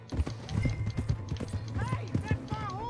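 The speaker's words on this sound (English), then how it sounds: "Hey, that's my horse!" Horse hooves clip-clop in a steady, close rhythm in the Western video game Red Dead Redemption 2, with game characters shouting over the hoofbeats.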